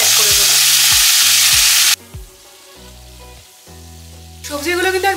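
Vegetables stir-frying in a hot pan with green chilli, a loud continuous sizzle and scraping stirs at first, then a quieter stretch of clinks and stirring before the sizzle flares up again.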